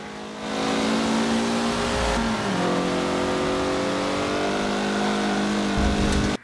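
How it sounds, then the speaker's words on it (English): A Corvette race car in the Forza racing game, its engine note climbing steadily as it accelerates, loud and continuous throughout with a brief pitch dip partway through. "Oh, looks like the Corvette just went ahead of me."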